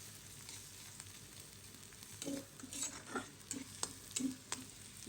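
Onion and garlic frying in ghee for a tarka, a soft steady sizzle close by with intermittent scraping and stirring sounds of a utensil against the pan.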